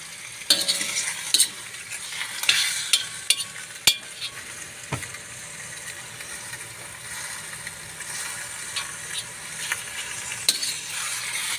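Catfish sautés in a pan for adobo in coconut milk, giving a steady close sizzle broken by sharp clinks and scrapes of a spatula stirring and turning the pieces.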